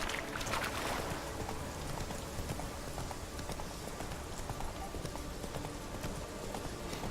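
The horse Roach's hooves clip-clop in a steady gait in the video game The Witcher 3, set against a constant layer of ambient background noise.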